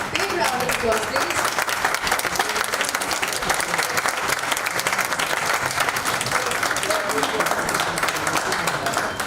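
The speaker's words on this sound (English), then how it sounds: "Big round of applause, please." Sustained, dense applause from an audience at a book-launch celebration, loud and steady throughout with no pauses, the clapping filling the whole stretch.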